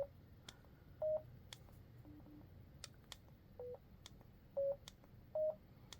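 Four short, quiet electronic beeps from a gaming headset, spaced irregularly, with faint clicks in between over a low background hum.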